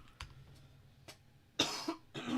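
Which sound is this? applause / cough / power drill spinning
cough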